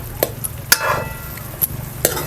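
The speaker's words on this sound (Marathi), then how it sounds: "आपण मसाल्यामध्ये ना एकजीव करून घेऊया सगळीकडे मसाला लागायला पाहिजे" A spoon stirring egg and paneer through masala in a pan, with a few sharp scrapes and taps against the pan over a low, steady background hum.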